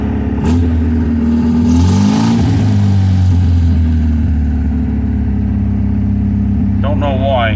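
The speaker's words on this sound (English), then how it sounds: "Revving a little high." An MGB sports car engine with a battery installed backwards and the choke just pushed in runs at a high idle, a loud steady drone that rises and falls slightly, with someone talking over it.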